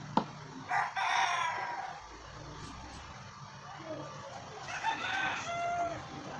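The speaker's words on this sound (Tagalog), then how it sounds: "pasensya kasi marami mga manok dyan sa gilid" Chickens cluck and a rooster crows close by in two loud bursts, one early and one near the end, over a steady outdoor murmur, with a brief sharp knock at the start.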